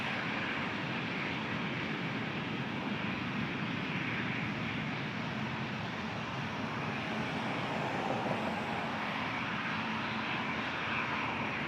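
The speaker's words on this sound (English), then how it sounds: "Here's Air Canada 777. This is headed to Heathrow Airport." Air Canada Boeing 777 airliner engines at Toronto Pearson airport, a steady broadband jet roar that holds loud and even throughout with no break, heard alone without voices.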